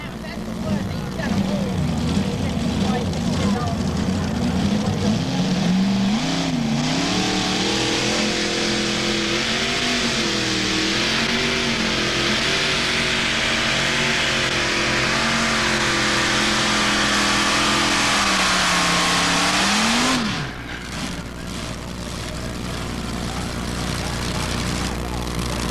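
A Chevrolet-powered pulling tractor from Bellevue, Ohio, the corn and soybean special, roars loud and close at a 1994 NTPA tractor pull in Imlay City, Michigan, its engine pitch swinging up and down as it revs hard, then cutting off abruptly near the end.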